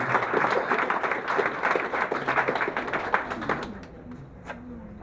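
A crowd applauds at a charity running event's summary ceremony, dense clapping near and loud for about four seconds before trailing off into scattered claps and quiet.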